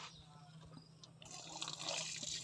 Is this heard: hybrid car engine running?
no